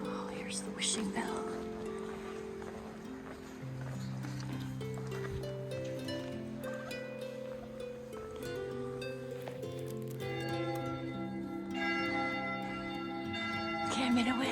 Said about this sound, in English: here's the wishing bell